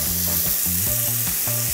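Breakfast bacon frying in a medium-hot pan gives a steady, loud, close sizzle with constant crackling hiss, while a few low rhythmic thuds sound underneath, and no one speaks.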